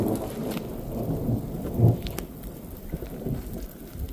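Thunder rumbles low and deep through a rainstorm, one swell peaking midway, over steady rain patter, with no voices.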